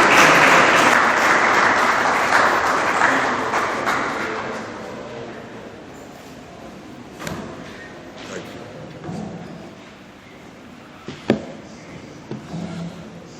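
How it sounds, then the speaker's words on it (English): An audience gives a round of applause for a distinguished guest speaker at an evening gathering, loud at first and then tapering off into scattered claps, thumps and room noise. "Please let's give him a round of applause."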